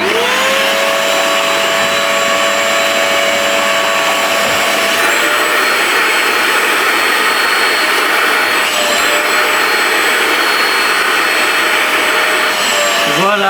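An injector-extractor's suction nozzle cleans a car seat, a loud, close, continuous vacuum whine whose pitch rises at the start and wavers slightly as the nozzle passes over the fabric.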